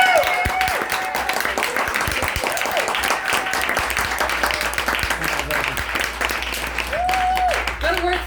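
Crowd in a small venue clapping after a comedian's song, a steady patter of hands running throughout while someone talks over it in bursts.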